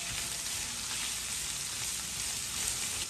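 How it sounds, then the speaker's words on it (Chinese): Crumbled egg stir-fried in a wok with spices, giving a steady, close hiss of frying with faint scraping from stirring, no voices. "炒好以后鸡蛋碎倒入锅中，翻炒出鸡蛋碎的香味儿"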